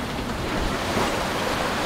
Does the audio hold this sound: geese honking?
no